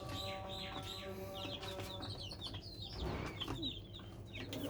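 Native desi chickens cluck and chirp steadily on a small farm, several birds close by with no talk.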